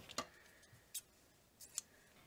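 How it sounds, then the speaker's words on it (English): Scissors cut through crochet yarn in a few quick, faint snips, spaced apart in an otherwise quiet room. "we're going to go ahead and cut our yarn"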